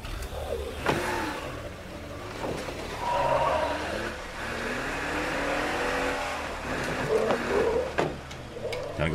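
Car in the zombie survival game State of Decay 2 driving along, engine droning and shifting pitch with clunks and bumps, under someone speaking intermittently.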